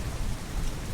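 Steady, dense rain falls continuously for under a second, a uniform wash of drops with a low rumble underneath and no voices.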